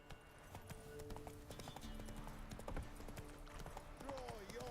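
Hooves of Roach, the horse in The Witcher video game, clip-clopping in a quick steady gait over a muffled game soundscape, with a voice speaking over the hoofbeats.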